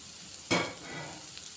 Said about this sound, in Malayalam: അതിലേക്ക് കുറച്ച് കടുക് ഇടുന്നു. വെച്ച സവാള ഇടുന്നു. അരിഞ്ഞു വെച്ച ബീറ്റ്റൂട്ട് ഇടുന്നു.